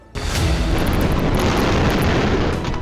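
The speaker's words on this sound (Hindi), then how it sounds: "तुर्की पोर्ट पर बने अनाज गोदाम में अचानक धमाका हुआ और पूरा शहर इस धमाके से दहल उठा।" An explosion tears through a grain warehouse at a Turkish port: a sudden loud blast bursts in after a brief quiet moment, then gives way to a sustained, roaring rumble that stays heavy to the end.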